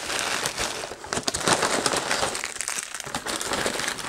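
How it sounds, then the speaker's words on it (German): A plastic bag crinkles and rustles while plaster bandages are unpacked, a close, continuous crackling with irregular sharp crunches and no speech. "Hoppala, Tüte schon kaputt, Jan."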